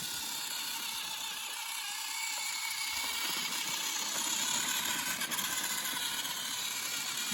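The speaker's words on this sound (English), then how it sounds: "her motor is kind of getting wore out, because it does make like a whirring sound" A worn motor in a 2009 Mattel Thomas & Friends Trackmaster toy train gives off a steady, close mechanical whir and hum that holds without a break throughout.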